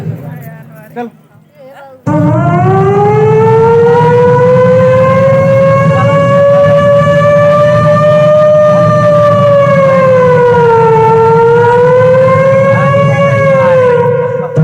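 A voice imitates a police car siren: a loud, steady wail holding a rising and falling tone for over twelve seconds after a short burst of talk.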